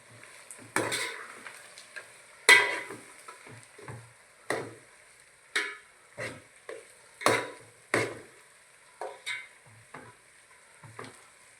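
A spoon stirs pigeon peas and spices in a hot pan, a dozen distinct scraping strokes at irregular intervals over a quiet background, with no talking.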